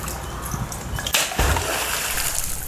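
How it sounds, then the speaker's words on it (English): A beaver slapping the surface of the water with its tail, heard outdoors near a freight train yard as two sharp splashes about a quarter second apart, nearby and moderately loud against a steady background hiss. "turned out to be a beaver swimming around, making all kinds of noise, slapping the water with his tail"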